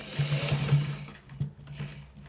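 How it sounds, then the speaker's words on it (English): An ordinary sewing machine stitches a shirt collar in short bursts of fast, even whirring, close by and fairly quiet, with brief pauses between runs. "We are using the normal sewing machine to stitch it."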